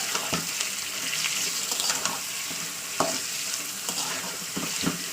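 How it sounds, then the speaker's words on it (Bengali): Chicken leg pieces frying in hot oil on a home stove, a steady close sizzle with crackling bursts and occasional spatter pops, alone without talk. "এই তেলে চিকেনটাকে ফ্রাই করে নিতে হবে।"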